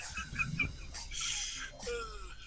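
A human voice imitates a dying rooster with strained, wavering squawks and a drawn-out, falling crow, close and fairly loud, in short bursts over a couple of seconds.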